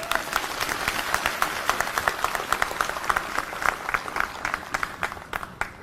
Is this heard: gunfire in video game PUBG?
no